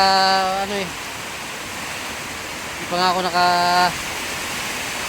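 Heavy rain, with wind, pours on a small fishing boat as a steady, dense roar under short spoken phrases and brief tonal sounds, loud and continuous throughout.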